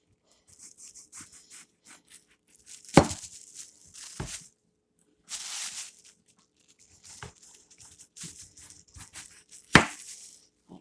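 A knife cuts the ends off an eggplant on a board, giving a few sharp crisp chops and scraping slices separated by quiet pauses, close by and without talk.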